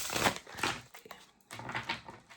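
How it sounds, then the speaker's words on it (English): Brisk papery riffling of tarot cards in two quick bursts, cards snapping together close by with a short pause between. "We'll go for a more dynamic shuffle."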